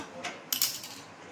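A metal karai set down on a gas stove gives a brief metallic clank with a short ringing clatter, close and single, in a quiet kitchen.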